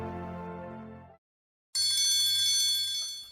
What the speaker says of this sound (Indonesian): Bel masuk kelas berbunyi.